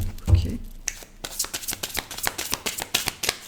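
Tarot cards are handled and shuffled to draw one: a soft thump, then a quick run of crisp, papery riffles and flicks, close and fairly loud.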